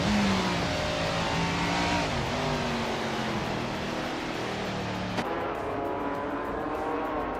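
A 1967 Ferrari 330 P4 prototype race car roars in a racing video game, its engine holding a steady high drone with pitch shifts as it changes gear, loud and continuous throughout.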